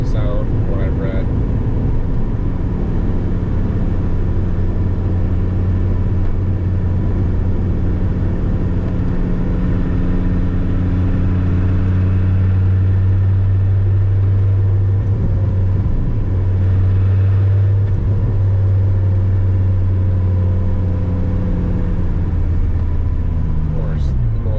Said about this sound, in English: Especially this car with side pipes, which are known to not sound quite as good.